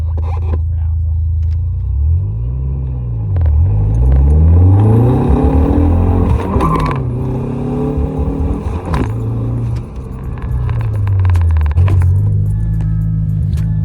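Car engine fitted with a new intake, idling with a low rumble and then revving up and down in several rising and falling sweeps, loud and close, with a person talking over it at times.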